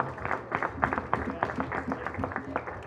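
Audience applause at a community night-out event in a middle school, a steady patter of many hands clapping at moderate level with some background chatter mixed in.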